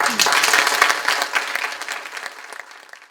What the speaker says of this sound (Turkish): kendinizi kocaman bir alkışlayın